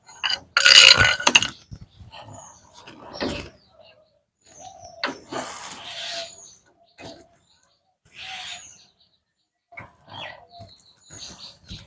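Pigeons in their coop making low bubbling coos and grunts in short bursts, with sharp flurries of wing flapping and rustling close by, separated by quiet gaps.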